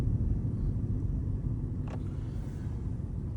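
A Jeep Grand Cherokee Summit SUV cruises through a January snowstorm, giving a steady, loud low rumble of engine and tyres throughout, with no voices over it.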